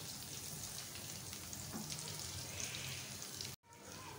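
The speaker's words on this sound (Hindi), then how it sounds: "गार्लिक हमारा सौते हो गया है" Garlic sautés in a pan with a continuous soft sizzle and frying crackle, steady and close, broken by a brief gap near the end.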